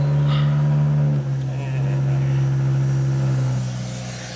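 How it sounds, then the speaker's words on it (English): A straight-piped MK5 Jetta with the 2.5L five-cylinder idles close by in a loud, steady drone, with a brief dip in pitch before settling again. "Not only do we have a loud car for you, now I'm gonna be rattling down the neighborhood."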